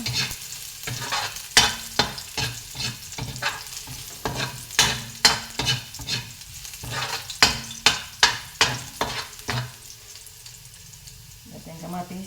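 Garlic sautés in a pan for ampalaya, a steady soft sizzle broken by repeated sharp scraping strokes of a utensil stirring close by, the stirring pausing near the end while the frying hiss continues.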